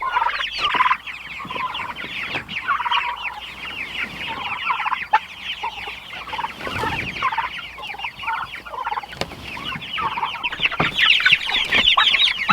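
Farm chickens, including a broody hen and chicks near a barn, cluck and chatter continuously, with several birds calling over one another at close range in a busy, steady flock sound.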